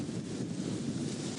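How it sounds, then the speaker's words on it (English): Strong wind gusting on an afternoon game drive in a South African reserve, a dense low roar buffeting the microphone in one continuous rush, with no voices. "Oh, it's very windy, Brian."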